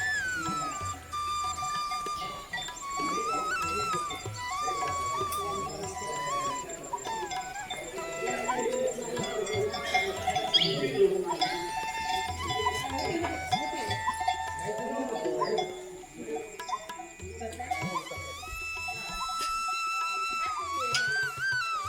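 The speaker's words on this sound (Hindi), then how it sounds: "गाय के गले में बंधे घंटियों की आवाज़, उनके रंभाने की आवाज़ हमें केवल सुनाई देगी" Cow bells jangling on the necks of cows at a temple site, with bell-like tones ringing through a busy, steady ambience of livestock and animal calls, continuous and moderately close throughout.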